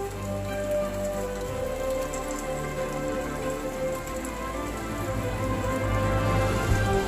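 Heavy rain falls steadily on garden plants and bonsai behind a house, a dense, continuous hiss of drops with a low hum underneath and no talking.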